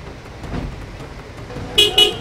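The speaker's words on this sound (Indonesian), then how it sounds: "Klakson-klakson, saling klakson-klaksonan." Two short car horn blasts ring out in quick succession over a low street rumble, drivers honking at each other during an argument over the right of way in front of a house.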